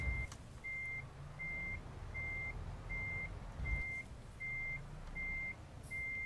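A truck's reversing alarm in Euro Truck Simulator 2 gives nine or so evenly spaced steady beeps over a low idling engine rumble, clear and moderately loud.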